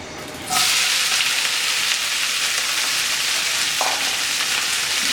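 Okra dropped into hot oil in a pan sets off a loud, steady sizzle that rises sharply after a moment of quiet and holds evenly throughout, with a brief stir partway through and no talking.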